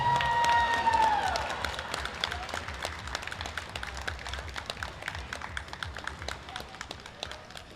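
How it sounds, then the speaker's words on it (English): Audience clapping fills a powerlifting championship hall after the Best Female Lifter award is announced, dense and steady after a brief tonal tone at the start, fading slightly toward the end with light crowd noise underneath. "a round of applause for Jessica"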